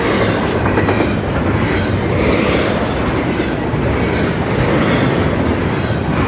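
Long freight train passing a second train that has taken a siding, a loud, continuous rumble of wheels and rail clatter close by with no break.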